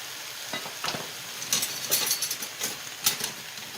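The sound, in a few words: spinach and baby kale sautéing in a pan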